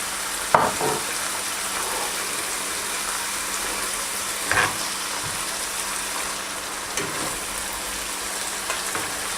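Eggs frying in spice masala for egg biryani over a low flame, a steady soft sizzle with occasional stirring knocks and scrapes, no talk.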